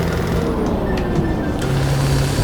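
A modded exhaust on a new Scania truck engine in Euro Truck Simulator gives a steady, unbroken low drone with a rough rumble, holding constant and fairly loud throughout.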